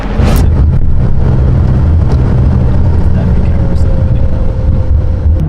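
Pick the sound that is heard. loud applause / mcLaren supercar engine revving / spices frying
mcLaren supercar engine revving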